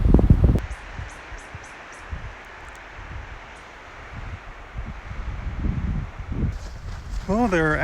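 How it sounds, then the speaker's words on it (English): Strong wind buffeting the microphone outdoors, rumbling low gusts that rise and fall around rustling, with someone speaking now and then over the blustery noise. "especially with all this wind"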